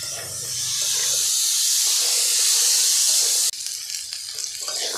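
Potatoes, radishes and small snails sizzle and hiss steadily in hot oil in a pan, a loud continuous fry that briefly dips near the end before resuming.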